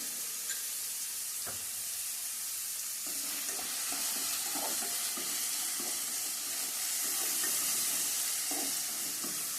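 Onions for akakarakaya curry fry in a pan with a constant close hiss and sizzle, broken by a few soft stirring scrapes, no one speaking.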